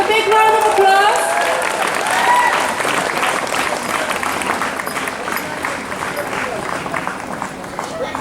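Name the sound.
audience applause at school recreation week prize ceremony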